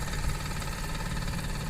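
An outboard motor warming up after starting, a steady mid-pitched engine drone with constant vibration and no talk.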